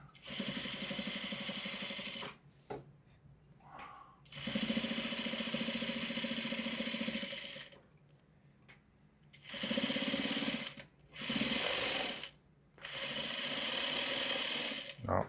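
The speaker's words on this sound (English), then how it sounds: "I am completely shocked that this sewing machine is actually doing pretty good with this level of thickness." A sewing machine stitches through thick material close by in several bursts separated by short pauses, its motor whirring in a steady stitching rhythm.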